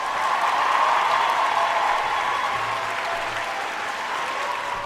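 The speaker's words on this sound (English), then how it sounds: "we gotta give him a round of applause to that, man." Applause rolls on continuously for several seconds, dense and even, with a faint murmur of crowd beneath the clapping.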